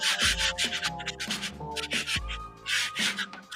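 Wing laminate being scuffed with 60 grit sandpaper, repeated close rasping strokes in a steady back-and-forth rhythm, with tonal background noise underneath.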